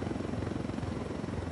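A helicopter in the game Ghost Recon Wildlands: a steady, even rotor drone with dense low-end chop, holding constant and close throughout with no voices.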